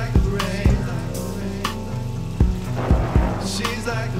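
Heavy rain with thunder rumbling, running steadily beneath a dark rap music mix with deep bass beats and repeated low thumps throughout.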